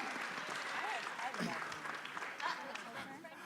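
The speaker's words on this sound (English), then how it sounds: "Fantastic round of applause for these actors." Audience round of applause for the actors at a fan convention voice-acting panel, a broad steady wash of clapping with a few whoops and cheers sustained throughout.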